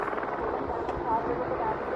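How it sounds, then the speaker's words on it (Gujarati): A helicopter flies near the Kedarnath temple in the Himalayan mountains, its rotor a steady, distant low hum in open air while people talk. "આ હેલિકોપ્ટર."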